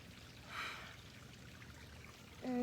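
Water trickles softly in a garden pond feature, a faint continuous flow with a brief swell partway through and a short tonal sound at the end.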